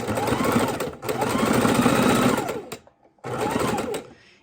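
A sewing machine runs a fancy stitch around a felt Easter egg, with loud rapid whirring bursts that stop briefly twice, close by.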